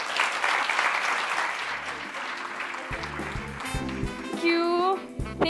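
Audience applause at a women's summit in Oman, a dense clapping wash that fades while a person speaks over the end.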